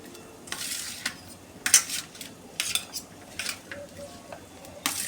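Hot roasted spices are mixed into a spicy onion pickle, with scattered scrapes and metallic clinks of a spoon against the bowl over a soft background sizzle, close up, in uneven bursts, no talking.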